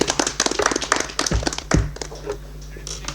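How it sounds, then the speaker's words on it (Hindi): Audience at a quiz competition clapping for group B, a close, uneven burst of individual hand claps and taps with a few heavier thumps, thinning out toward the end. "आपके लिए एक जोरदार तालियां हो जाए।"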